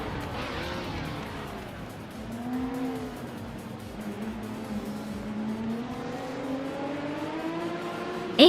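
Porsche 917 race cars scream past in a racing video game, their engines droning and rising in pitch as they shift up, with a steady roar of several cars racing close together and a sharp squeal at the end.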